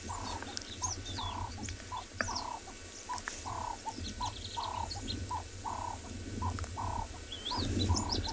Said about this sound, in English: The red-eyed dove is actually singing a lullaby